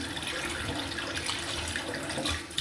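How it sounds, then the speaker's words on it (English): Water running from a basin tap to rinse off Proraso shaving soap residue, a steady close splashing hiss of even loudness through the whole short stretch. "I'm going to go for my rinse. Doesn't take a long time to rinse the residual off with Proraso."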